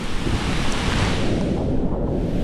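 Floodwater surges powerfully under and around a bridge, a dense, roaring wash of turbulent water with wind buffeting the microphone, loud and unbroken throughout.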